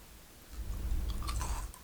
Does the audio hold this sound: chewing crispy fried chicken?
yes